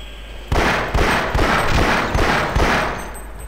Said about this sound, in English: See how weird is the shotgun?